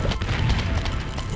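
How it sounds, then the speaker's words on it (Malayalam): A cherry bomb explodes in the Plants vs Zombies game, a loud, dense booming burst filling the brief moment with rumbling low impacts and no voices. "cherry bomb എത്തിയും"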